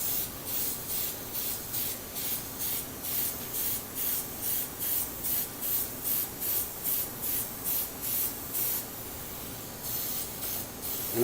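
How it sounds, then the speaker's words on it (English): An airbrush sprays light coats of chameleon paint in steady back-and-forth passes, each burst of hiss rising and falling in a regular rhythm, close and alone with no talk. "And I'm just spraying light coats."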